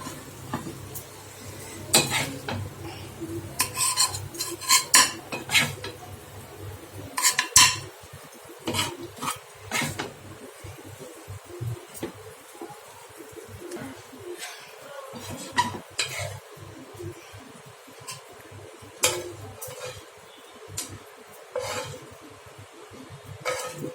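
Marinated meat cooks in a pan while a metal utensil scrapes and stirs it, giving irregular clinks and scrapes over a soft, steady sizzle.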